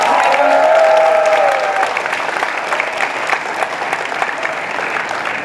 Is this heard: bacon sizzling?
no